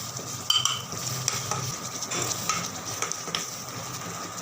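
Spoon stirring chili powder into a ground paste in a pan for cauliflower kurma, with a steady soft scraping and faint sizzle running throughout, close and moderately quiet.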